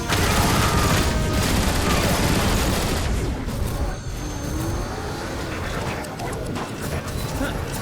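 Weapons firing in the Transformers War for Cybertron video game, a continuous loud barrage of blasts and clatter with a slight dip midway, under spoken voices.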